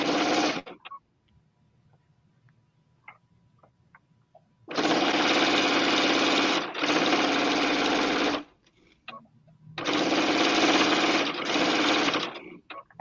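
A sewing machine stitches a quilted apron in loud bursts of a few seconds each, separated by quiet pauses with faint handling clicks.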